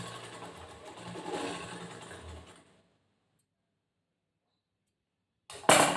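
A sewing machine stitches a folded edge on the front part of a cross-cut blouse, whirring steadily and close for nearly three seconds, then stopping, with a brief loud clatter of fabric handling near the end.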